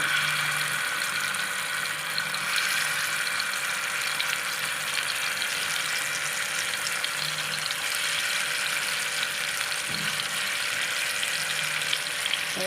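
Marinated fish pieces for pakoda fry in hot oil with a steady, fairly soft sizzle, punctuated by an occasional clink, and no one talking.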